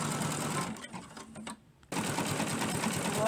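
A sewing machine stitches a fabric fridge handle wrap with a steady, close mechanical whir. It briefly slows and goes quiet around the middle, then runs again at full speed.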